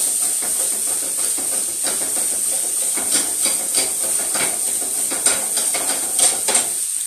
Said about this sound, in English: I'm just shaking up the veggies.